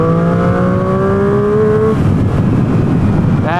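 A Yamaha XSR motorbike without an exhaust, heard from the rider's seat, growls loudly with a rising engine tone that levels into a rough steady drone, briefly climbing again at the end.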